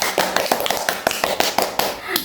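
Children clapping their hands in a classroom during a lesson on body privacy, a quick run of uneven claps ringing out over several seconds with some speech-like sounds mixed in.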